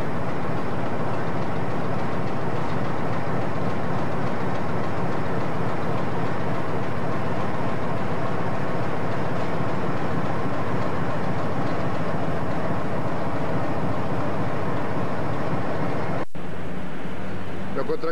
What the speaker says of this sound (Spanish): Estamos viendo locomotora Alco RCD 35-6769, a punto de partir con un carga